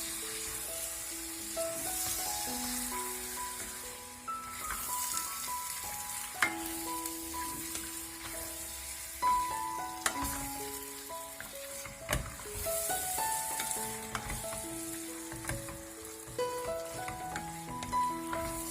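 Mutton liver sizzles steadily in a pan as it is stirred, with occasional spoon knocks and scrapes over a continuous frying hiss, and a soft tune plays faintly underneath.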